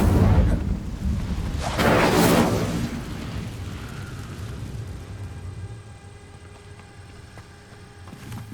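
An Incendio fire spell from Hogwarts Legacy erupts as a loud whooshing blast near the start, with a second roaring burst soon after, then fades into a lower crackling rumble with game ambience.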